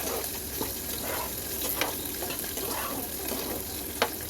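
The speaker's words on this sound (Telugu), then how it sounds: "అవి వేసుకొని ఒక 10 నిమిషాలు వేయించుకుంటూ ఉండాలి. స్టవ్ని లో ఫ్లేమ్లోనే పెట్టుకొని వేయించుకోవాలి." Bitter gourd slices fry on a low flame in a pan, giving a steady soft sizzle with occasional scraping stirs and one sharper clink near the end, no talking.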